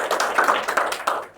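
Classroom clapping, fairly close and loud: a brief, uneven patter of many hands that stops abruptly near the end.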